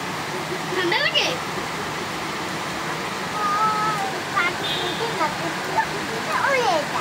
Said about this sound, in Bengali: বৃষ্টি আছে, পানি আছে, গায়ে পানি লাগে।